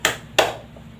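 Two crisp hand claps spaced about a third of a second apart sound in a classroom clapping ice-breaker game, close and clear with quiet room tone between them.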